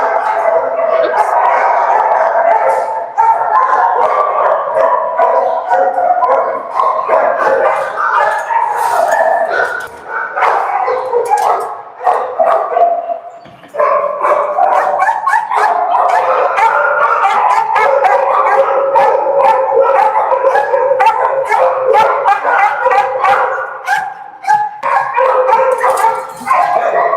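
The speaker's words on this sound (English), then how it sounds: "There's a little dog there that I want to show you guys." A little dog barks and howls on and off for nearly half a minute, joined by other dogs in a loud chorus of yips and drawn-out wails with brief lulls between them.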